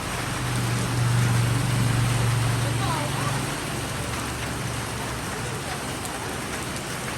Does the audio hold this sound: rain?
yes